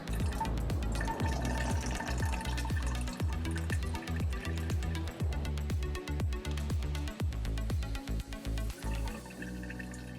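PC liquid coolant draining from a custom water-cooling loop into a jug, a continuous gurgling pour with rapid glugging bubbles and drips, close and fairly quiet, easing off slightly toward the end.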